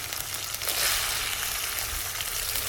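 Shallots, curry leaves and green chillies fry in oil for a village-style coconut prawn curry, giving a loud, dense crackling sizzle that swells slightly after the first moment and stays continuous, with no voices.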